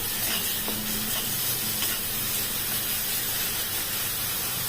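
Marinated bhetki fish, coated in poppy seed, green chilli and coconut paste, fries in a pan with a constant loud hiss and sizzle and no voices over it.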